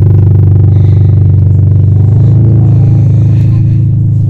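A Ferrari 550 Maranello's V12 engine idles nearby in a steady, loud, low rumble, holding an even throb throughout with people talking faintly over it.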